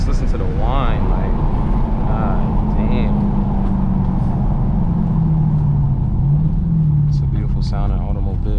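A 2019 Dodge Challenger Hellcat under way in daytime: the engine's deep rumble is joined by a whine that rises and falls in pitch as the car accelerates, loud and close, with voices talking over it.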